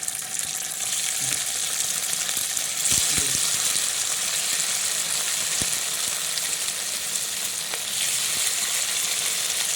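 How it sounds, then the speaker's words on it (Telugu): Amaranth leaves and chicken liver fry in a pan, giving a steady, close sizzle with a few light stirring clicks and no voices throughout. "నేను కొంచెం కొంచెం వేసి ఫ్రై చేస్తున్నాను, ఒకేసారి వేయకుండా మొత్తం."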